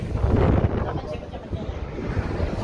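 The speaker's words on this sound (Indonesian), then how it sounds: "anginnya agak tertutup, tapi kencang juga" Strong wind on an open cruise ship deck, a loud, continuous gusty roar buffeting the microphone for the whole stretch, rising and falling in force without a pause.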